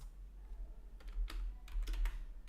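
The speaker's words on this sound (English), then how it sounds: "I'm trying to type something for full stack" Quiet typing on a computer keyboard, soft clustered key clicks in uneven bursts over a low background hum.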